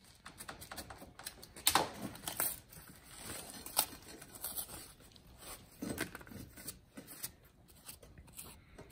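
A cardboard template for metal-fabricated shock mounts is cut out by hand outdoors without scissors, giving quiet, irregular tearing, crinkling and snapping sounds up close, with no talk.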